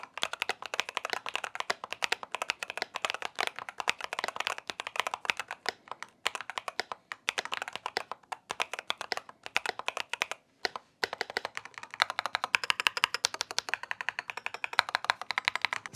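Rapid, continuous clacking of an RK61 Plus mechanical keyboard with tactile keys, crisp clicky strokes typed steadily up close for a long stretch with only brief pauses.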